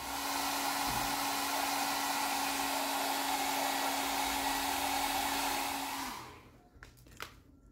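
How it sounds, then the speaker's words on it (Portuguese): A hair dryer blows steadily and close up while heating protective film on a car door, a continuous whirring hum with a constant tone that runs for about six seconds before being switched off, followed by a few faint clicks. "Então vamos passar aqui um secador para a gente poder melhorar aqui esse acabamento."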